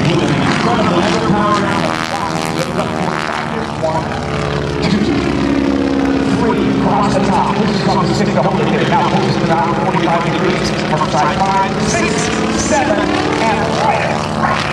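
A propeller aerobatic plane flies an eight-sided loop low over an airshow crowd, its engine droning steadily with rising and falling pitch throughout, while an announcer talks over it.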